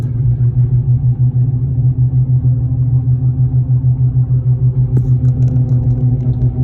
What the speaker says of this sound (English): Gets louder when you put weight on it, changes with steering, and with the revolution that you're hearing, the womp, womp, womp